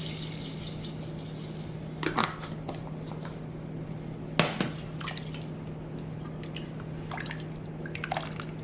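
Vegetable stock and about a cup and a half of lentils go into a cooking pot, heard as scattered drips and liquid splashes with a few sharp knocks and pattering bursts in an otherwise quiet kitchen.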